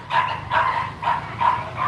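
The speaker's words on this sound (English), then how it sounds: "Oh, there's a dog fight." Dogs bark in a fight on a city street outside a Coopmart supermarket in Phu Nhuan, Ho Chi Minh City. Five evenly spaced, fairly loud, close barks sound over low traffic rumble.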